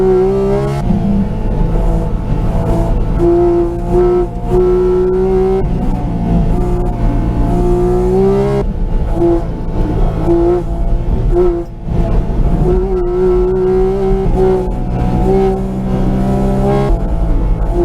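Porsche Cayman GT4 RS engine at full song on a Nürburgring lap, a loud continuous tone rising and falling through gear changes with brief dips under braking.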